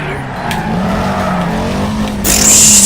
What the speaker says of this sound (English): Let's do a massive drift.